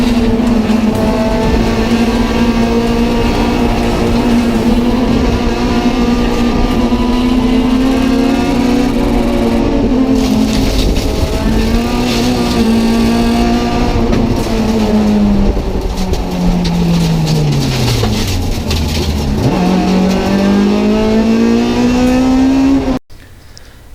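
Onboard engine sound from a race car in a chaotic race, a loud continuous drone that rises and falls with shifts and revs, with other cars audible around it.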